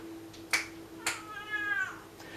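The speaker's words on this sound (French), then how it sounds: "j'ai mon chat qui râle parce qu'elle veut sortir" A house cat meows in complaint, wanting to go outside: two short sharp clicks, then one drawn-out plaintive meow, close and clear in a quiet room.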